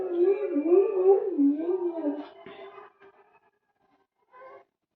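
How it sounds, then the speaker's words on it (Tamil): An African grey parrot calling at Vandalur zoo gives a close, warbling, wavering series of whistles and croaks lasting about three seconds, then a short, quieter chirp after a pause. "ஆப்பிரிக்க சாம்பல் நிற கிளி இது."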